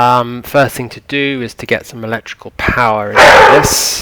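A dog barks a few times close by toward the end, loud, with someone speaking steadily over and before it indoors.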